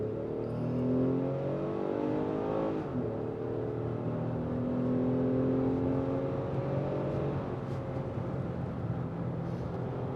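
A 2022 Lexus RX F Sport AWD in Sport Plus mode accelerates onto a highway, the engine note climbing through gears with steady rising pitch, a brief shift dip, then a sustained drone and road hum.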